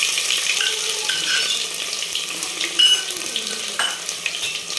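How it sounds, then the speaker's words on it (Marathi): Mustard seeds spluttering in hot oil before crushed garlic goes in, a steady bright sizzle with small crackles and a sharper pop or two near the end, close and without voices. "तर आपण मोहरी टाकून देणार आहे. आणि छान एकदम मोहरी तडकल्यानंतर जो आपण लसूण ठेचून घेतला होता तो लसूण टाकणार आहे."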